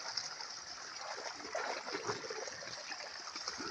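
Water drains from a ditch beside a bitter gourd plot, trickling and gushing steadily nearby, a continuous splashing flow with faint fluctuations and no voices.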